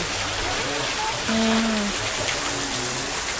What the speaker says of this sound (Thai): ระหว่างทางที่เราเดินเข้ามานะคะ เราก็มาชมน้ำตกจำลอง